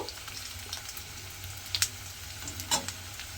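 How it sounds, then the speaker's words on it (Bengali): Small fish pakoras made with mourala fish deep-fry in oil with a soft, continuous sizzle, broken by a few sharp spatters and light scraping as they are turned. "আমি কিন্তু এগুলোকে খুব ভালোভাবে উল্টে পাল্টে একটু লাল করে ভেজে নেব।"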